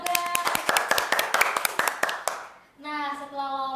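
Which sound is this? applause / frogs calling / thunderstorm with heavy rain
applause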